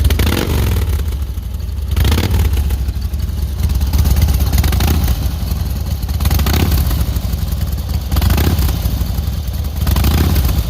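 A motorcycle engine with a leaking carburetor idles close by, a loud, continuous rough rumble with rhythmic pulsing and mechanical clatter throughout.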